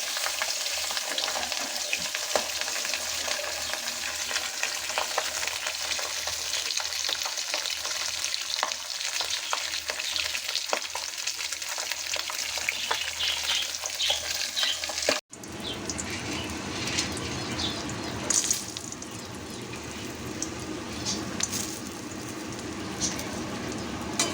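Fish fries in hot, spattering oil in a home kitchen, giving a loud, continuous crackling sizzle with sharp pops throughout; the tone shifts partway through as the hiss settles into a busier, steadier crackle.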